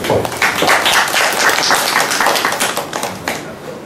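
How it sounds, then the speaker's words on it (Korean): Audience applause after a red ginseng drink is presented to a guest at a Buddhist college gathering, a dense, steady round of many hands clapping close by with no talk over it. "박수 한번 주십시오"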